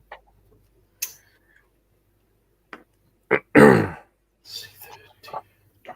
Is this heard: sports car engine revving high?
no